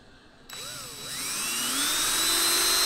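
A power drill fitted with a nail punch spins up abruptly and whines, its pitch sliding and climbing as it rounds over the end of an axle, steady and close.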